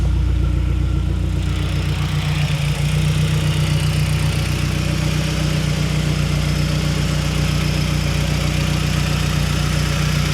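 An Audi TT engine idles steadily and close up, a continuous low hum with a faint change in tone early on, no voices.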